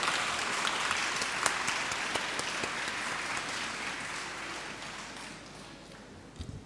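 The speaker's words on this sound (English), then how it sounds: "I think all of them deserve a round of applause," Audience applause at a Model United Nations opening ceremony at La Martiniere, a steady wash of clapping from a large room that holds evenly and tapers slightly toward the end, with a few louder claps at the close.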